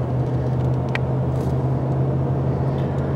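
2016 RAM 1500 4x4 with the 5.7 HEMI V8 driving, a steady low engine drone and road rumble heard from inside the cab, with one faint click partway through.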